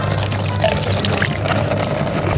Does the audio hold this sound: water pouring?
yes